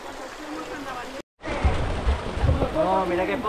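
Mountain stream at Arroyo del Infierno in the Sierra Bermeja near Estepona, a soft continuous trickle and rush of water, briefly cut, then returning with some scattered knocks and background noise.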